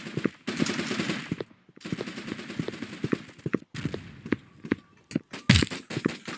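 Gunfire in the online shooter Blockpost comes as rapid automatic bursts and scattered single shots, tightly packed, with short pauses between volleys and a sharp louder crack near the end.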